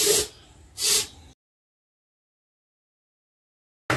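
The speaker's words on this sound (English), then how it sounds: "I am going to just spray it" Two short hissing bursts from a spray can, close and fairly loud, followed by silence and the start of a third burst at the very end.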